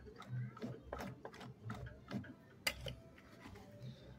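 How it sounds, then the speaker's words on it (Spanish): A Singer 2868C sewing machine runs a decorative stitch, producing faint, uneven mechanical ticks and clacks from the needle and feed mechanism, heard close and quiet. "Ahora vamos a hacer una puntada decorativa"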